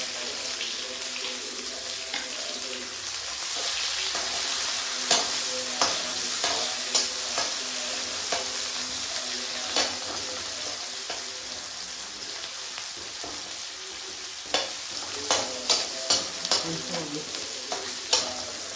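Cumin seeds and spices fry in hot oil with a steady sizzle, broken by the clink and scrape of stirring that quickens toward the end, heard up close.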